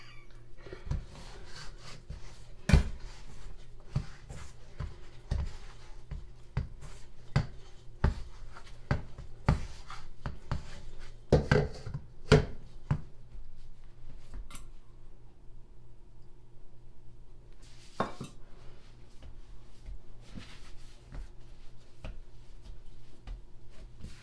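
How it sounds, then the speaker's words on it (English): Bannock dough kneaded by hand, with soft rubbing and scattered dull thumps and taps against a surface, recurring irregularly over about twenty-four seconds with no talk. "just about done kneading the dough"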